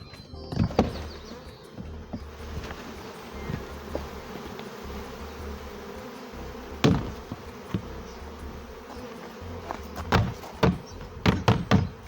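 Bees buzz in a low, steady drone as they leave a package container, with sharp knocks and taps scattered throughout, clustering toward the end.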